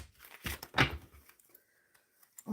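A deck of tarot cards is shuffled in two quick, rustling bursts close by, followed by a quieter stretch with faint handling sounds and another soft rustle at the end.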